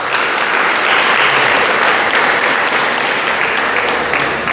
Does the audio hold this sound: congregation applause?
yes